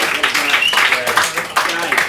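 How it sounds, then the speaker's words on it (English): An open mic comedy crowd in Beijing gives a round of applause for a performer's last show, with steady close clapping throughout and a voice talking over it. "Let's give a big round of applause to this guy."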